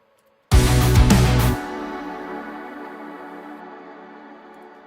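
A single loud, chunky palm-muted electric guitar chord struck hard and held about a second, then cut short, leaving a dull ringing tail that fades slowly.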